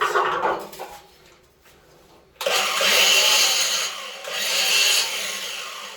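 A metal file rasps a small burr off an aluminum piece inside a home-built personal submarine: a burst of close scraping strokes, a quiet pause, then two longer, louder rasping passes.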